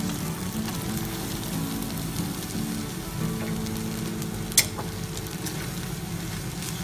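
Rice and sauce for chicken biryani being stirred together in a pot, a soft steady sizzling and scraping texture with one sharp clink of the utensil partway through.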